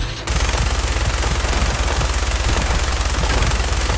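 Rapid automatic gunfire from a weapon in the video game Fallout 4, a steady, dense stream of shots that starts abruptly after a brief pause and keeps going loud and close to the end.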